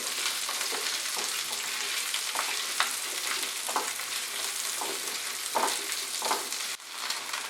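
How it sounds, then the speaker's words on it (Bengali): Onion pieces fry in a pan over medium heat for a paneer masala, giving a steady, loud sizzle with occasional stirring scrapes and no talking. "পেঁয়াজটা দেওয়ার পরে আমি আরো 2 মিনিট এটাকে ফ্রাই করব মাঝারি আঁচে।"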